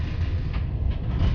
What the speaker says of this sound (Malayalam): ഇതാണ് നമ്മൾ ഇന്നലെ സഞ്ചരിച്ച ട്രെയിൻ.